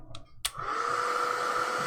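A hair dryer switches on after a couple of soft knocks and blows steadily with an even whine and rush of air, drying a freshly stamped watercolor image.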